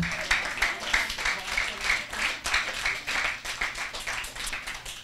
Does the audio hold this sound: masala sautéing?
no